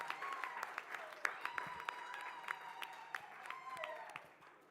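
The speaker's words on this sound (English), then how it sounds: "So I want us to give him a rounding applause for incredibly promoting birds." Scattered applause from a conference audience at a women birders' event: faint, sparse claps spread through the clip beneath a steady tonal background, soft and distant throughout.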